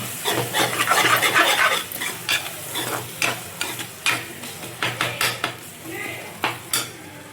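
Ingredients for a fish curry with raw mango are sautéed in a pan, with a spoon scraping and stirring in a steady rhythm of clinks over a soft, continuous sizzle.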